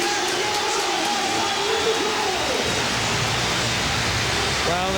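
A full-house football crowd at Elland Road on an evening Leeds United versus Liverpool match, a continuous broad roar washing in from all around, with a commentator speaking over it.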